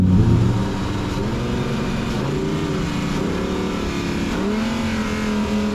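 A Lamborghini Huracan Performante's engine revs up and down in several rising and falling sweeps after a brief louder opening burst, heard close and strong with no talk.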